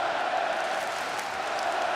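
Arena crowd at a Russia versus Sweden ice hockey world championship group game keeps up a steady, dense roar of cheering and noise, continuous and moderately loud throughout.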